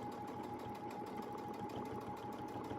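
A sewing machine doing free-motion double stitching runs in a steady, fast, continuous whir with a faint rhythmic pulse, close and alone with no talk.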